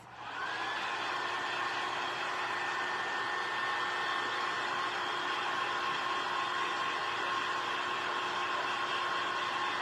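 A hair dryer drying Mod Podge on a craft project gives a steady, close, continuous whirring blow with a faint whine. It runs unbroken for about ten seconds, with no talking.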